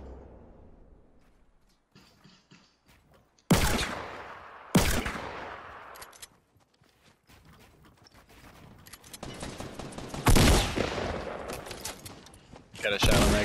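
Gunfire in the Fortnite battle royale game, with several loud, sharp shots and bursts ringing out at intervals over a busy background, one cluster coming near the end of the fight.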